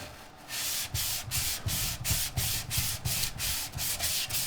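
Wet sanding with 1200-grit wet-and-dry sandpaper, a steady rhythmic back-and-forth rasp of about a dozen close strokes, alone without voices.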